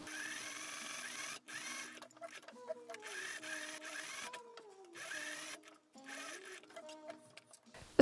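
Sewing machine running gathering stitches along a dress sleeve, a close mechanical whir in bursts with brief stops between, with a voice talking faintly underneath.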